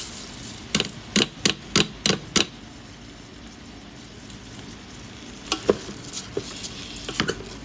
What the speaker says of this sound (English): Add rice and stir fry.